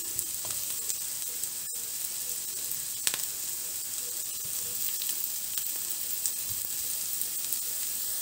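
Capsicum goes into a hot frying pan for pancit canton and sizzles with a steady soft hiss and crackle, with a few faint stirring clicks and no talking.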